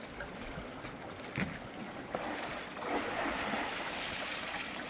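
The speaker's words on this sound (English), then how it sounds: "This is a fish wheel on the Copper River of Alaska." A fish wheel turning in the Copper River, Alaska, over a constant wash of moving water, with splashes and soft knocks recurring as it rotates, no talking.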